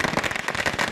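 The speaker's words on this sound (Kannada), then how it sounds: "ಪಟಾಕಿ ಸಿಡಿಸಿ ಸಿಹಿ ಹಂಚಿ ಸಂಭ್ರಮಿಸಿದರು" Firecrackers set off by civic activists celebrating in Kalaburagi after Shahabad was declared a taluk: a dense, continuous run of crackling pops in a short burst, with no voices.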